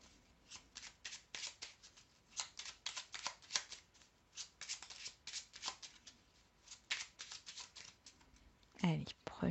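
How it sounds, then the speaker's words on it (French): Tarot cards being shuffled, a rapid series of crisp riffling flicks in uneven bursts, then a card drawn at the end; close and fairly quiet. "je vais tirer 3 cartes"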